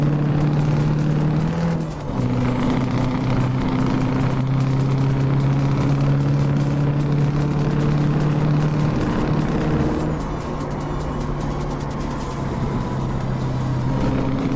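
Truck engine in Euro Truck Simulator fitted with an extreme exhaust sound mod, a loud steady low drone with shifting pitch as the engine revs change, running continuously with a brief air-brake hiss.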